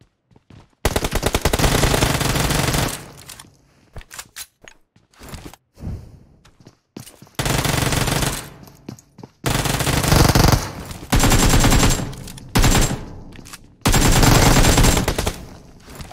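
Rapid automatic gunfire from the mobile battle royale game PUBG Mobile comes in several long loud bursts separated by short gaps, with quieter shots and thuds between them.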